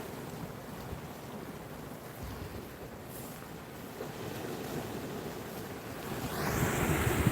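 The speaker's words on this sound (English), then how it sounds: "I'm just sitting down on the rocks here beside the sea." Steady wash of sea surf against rocks with wind buffeting the microphone, rising into a louder surge of breaking water near the end; no voices.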